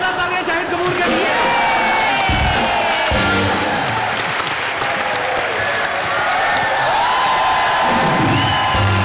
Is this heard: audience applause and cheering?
yes